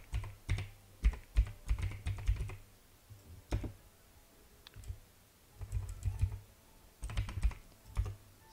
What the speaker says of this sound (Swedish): jag ber om ursäkt för att mitt tangentbord låter så mycket